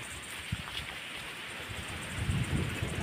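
Wind blowing outdoors in the village of Veral, Mandangad, heard as a steady broadband rush with low gusty rumbles on the microphone that swell toward the end, with no voices.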